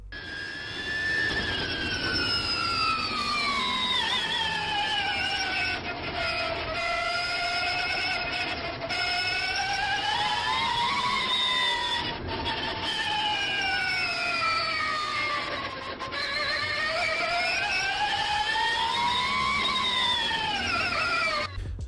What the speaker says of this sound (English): The GT4 e-Performance has, I think, solid diff bushings and straight cut gears in it. And so it sounds neat going down a track.